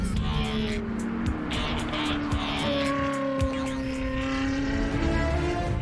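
A Ferrari sports car from a French tuning shop revs loudly and steadily, its engine note rising and shifting pitch throughout with a close, continuous roar.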